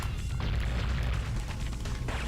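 A torpedo explodes in Spyro: Year of the Dragon, a loud, low, rumbling boom within a dense wash of game noise, with several sharper bursts cutting through.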